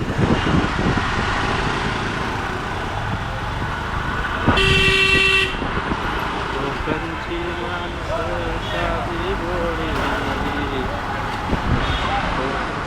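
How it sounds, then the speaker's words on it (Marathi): Honking car horns in a road traffic jam near the Dapoli bus stand in Ratnagiri, Kokan, during mango season; one loud, steady horn blast stands out amid constant traffic rumble, with voices talking throughout. "ट्रॅफिक नुसता ट्रॅफिक लागलाय जिकडे तिकडे नुसता ट्रॅफिक लागलाय"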